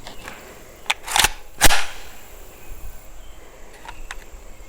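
PSA AK-V rifle firing Hornady Critical Duty ammunition outdoors, a couple of sharp, loud reports about half a second apart with a few fainter distant cracks afterward.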